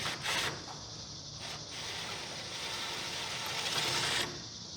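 A ratchet wrench loosens the 7/16 nuts on a garage door bottom plate, giving a continuous close mechanical clicking and whirring that runs for several seconds, with no voices.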